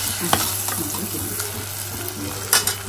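Masala cooking in oil in a pan for egg pulusu, a continuous close sizzle and fry with occasional scraping stirs of a spoon, no talking.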